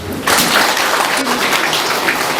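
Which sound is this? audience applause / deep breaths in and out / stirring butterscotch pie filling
audience applause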